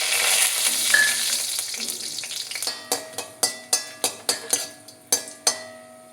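Cinnamon, cloves, cardamom and garam masala go into hot coconut oil with a sharp sizzle that fades, then a run of crisp metallic clinks and taps from a utensil against the pan.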